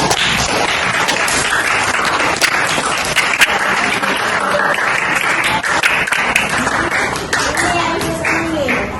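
A ninth-grade science class claps together in a classroom, producing loud, dense applause with sharp individual claps standing out near the microphone and a few voices underneath.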